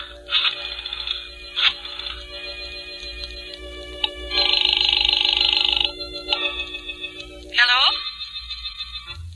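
Telephone ringing after a number is dialed in a radio drama, with a dial whirring followed by repeated mechanical bell rings in short bursts, heard alongside narration.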